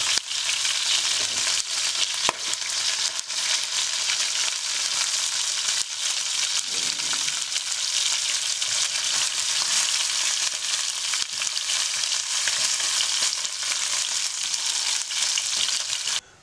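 Chicken pieces fry steadily in a pan, a dense, continuous sizzle at close range with faint stirring scrapes and no voices, holding evenly for the whole stretch.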